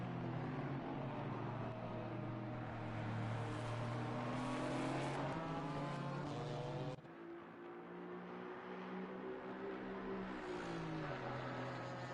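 Several GT4 race cars roar around Kyalami in Assetto Corsa Competizione, their engines droning loudly and continuously with shifting revs as they battle close together; the pitch drops sharply midway as one car changes gear, then climbs again.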